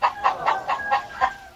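A chicken clucks in a quick run of about six short, evenly spaced bursts, close by and fairly loud, with no talking.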